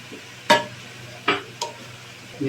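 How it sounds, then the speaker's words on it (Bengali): Rice stirred in a pan with rose water over a medium gas flame: a few sharp scraping knocks of a spoon against the pan over a faint low background, with no talk. "আর গ্যাসের ফ্লেমটাকে মিডিয়ামে রেখে নেড়ে ছেড়ে ফ্রাই করে নিতে হবে।"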